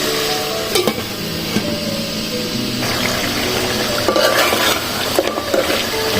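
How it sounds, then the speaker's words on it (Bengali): Beef curry being stirred in a hot pan, a steady sizzle with scraping and sharp utensil clinks against the metal, close and without talk. "মাংসটা নেড়ে চেড়ে নিচ্ছি"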